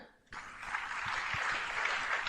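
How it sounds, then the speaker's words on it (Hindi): Applause from an audience welcoming a speaker to the stage, starting abruptly and holding steady as moderate, somewhat distant clapping for a couple of seconds. "मैं चाहता हूं कि आप गगनभेदी तालियों से वेलकम करें"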